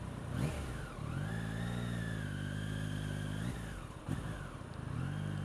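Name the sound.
three-cylinder motorcycle engine revving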